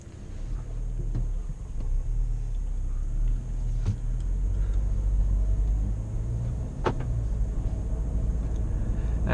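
A Volkswagen Tiguan R-Line engine idles and runs with a steady low rumble, a few faint clicks and knocks cutting through, close and fairly loud.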